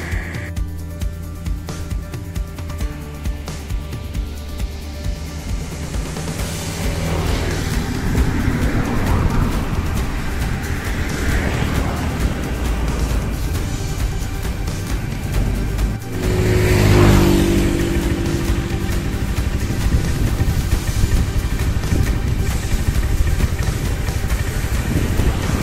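A motorcycle runs on a village road cutting through rice fields in Kerambitan, Tabanan, Bali, its engine droning steadily close by and swelling louder as it revs, with wind rumble throughout.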